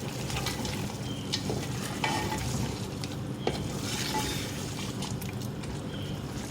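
Chicken frying with yogurt and spices for degi-style chicken biryani, a steady dense sizzle with occasional spoon scrapes and clinks against the pot as it is stirred throughout.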